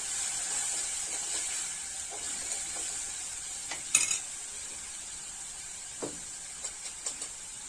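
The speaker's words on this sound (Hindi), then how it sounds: "हरी मिर्च डाली और जीरा का तड़का मारा, हरी मिर्च डाली, उसके बाद मैंने टमाटर डाल दिए।" Faint, steady sizzling of cumin, green chillies and tomatoes frying in hot oil, with a few light clinks and stirring sounds of a utensil against a pan.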